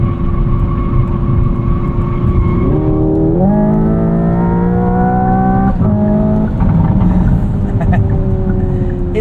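2025 Hyundai Ioniq 5N electric car cornering hard at around one G, its synthetic engine note loud and steady, rising in pitch through the bend with a shift-like step and faint tire squeal throughout.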